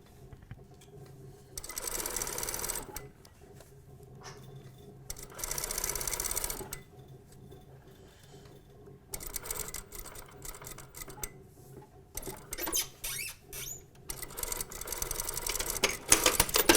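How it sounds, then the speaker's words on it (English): A sewing machine stitches the slanted side pocket seam of a pair of trousers, running in several sustained bursts separated by short pauses, close and clear, with no talking. "And then we're just stitching."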